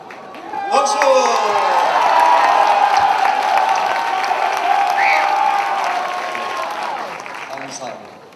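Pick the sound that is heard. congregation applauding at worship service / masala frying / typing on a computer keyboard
congregation applauding at worship service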